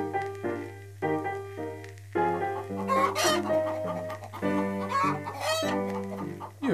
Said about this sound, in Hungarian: Hát megijeszted a tyúkokat.